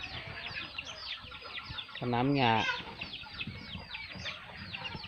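Fighting cocks cluck in a yard while someone talks over them; midway one bird lets out a louder, drawn-out crowing call before the scattered clucks resume.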